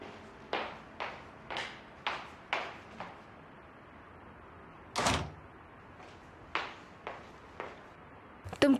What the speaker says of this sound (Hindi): यहीं रुको, दरवाजा बंद करो, बंद करो दरवाजा।